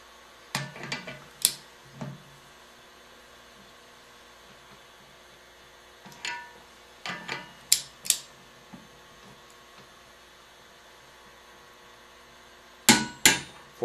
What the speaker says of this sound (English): you want to pull this wrench very slowly so that you don't bypass the click